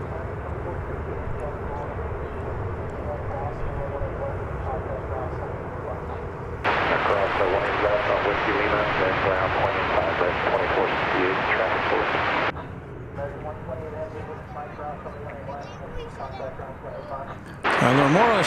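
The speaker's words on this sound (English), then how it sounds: "right next up, the 747 Queen of the Skies" Boeing 747 jet airliner at DFW Airport, a loud sustained jet roar that swells abruptly to a heavier, brighter rumble for several seconds, then drops back, with another burst at the end; talk is heard over it.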